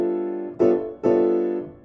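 A sustained chord voiced with a sharp eleventh, likely on piano, struck twice in close succession and ringing out clearly, alone with no voices.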